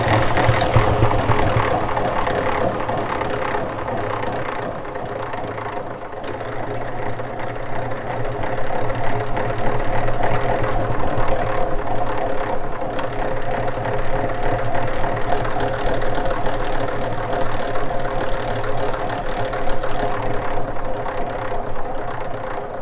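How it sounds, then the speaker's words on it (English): A centrifugal honey extractor spins frames of honeycomb, giving a steady loud mechanical whirring and rattling drone with metallic clatter that runs continuously throughout, no voices. "it just works by centrifugal force by spinning the honey out of the cells"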